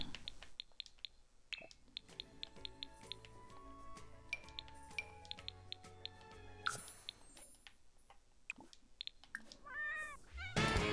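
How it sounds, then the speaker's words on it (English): A cat meows repeatedly in The Sims 4, short calls set among clinking dishes, chimes and other quiet game sounds, with no talking. "He's just meowing a lot."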